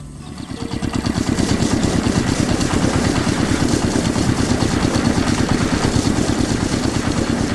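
Steady, loud mechanical engine drone with a fast, even pulsing rumble, running continuously throughout like heavy factory machinery in a farm cartoon, with no voices over it.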